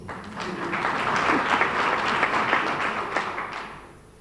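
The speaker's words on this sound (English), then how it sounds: "So I think you can give us another round of applause." Sustained applause from a crowd at a university graduation ceremony, many hands clapping densely and steadily before fading out toward the end.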